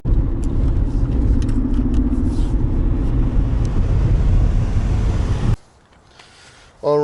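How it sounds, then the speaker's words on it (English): A car cruising on the road gives a steady low engine and road rumble with wind noise heard from inside the cabin, ending abruptly into a quiet outdoor stretch. "So right now I'm driving to Kyle's house"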